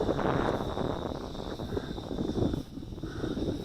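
Wind buffets a microphone outdoors during a flight of a GoolRC T8C camera drone, making a continuous loud low rumble with gusty swells and dips and no voices.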